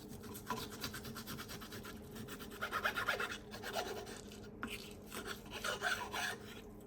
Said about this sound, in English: We'll first cut it in half so the strips are like smaller.